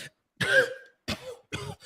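A voice imitates throat clearing, three short raspy bursts with brief pauses between, close and fairly quiet.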